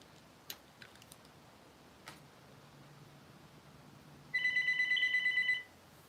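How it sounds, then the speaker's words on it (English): A house phone rings in one bright, electronic burst of about a second after a stretch of near-quiet broken by a few faint ticks, with no one speaking. "My house phone is ringing."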